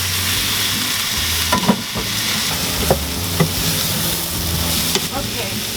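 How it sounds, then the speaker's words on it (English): Cherry and Roma tomatoes hitting a hot, sizzling pan, a steady fry hiss broken by a few sharp pops and clinks of stirring. "I'm gonna go ahead and add in your cherry tomatoes and your aroma tomatoes"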